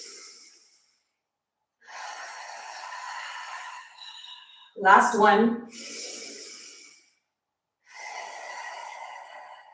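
Audible breathing during intermediate-to-advanced mat Pilates exercises with a ring, a sharp forceful exhale or snort-like burst standing out midway between stretches of close instructional talk.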